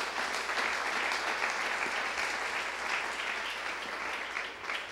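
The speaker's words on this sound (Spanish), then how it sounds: "¿Cuántos aplauden al Eterno?" A church congregation applauds steadily during a Spanish-language sermon, a dense, even wash of clapping that holds for the whole stretch without talk.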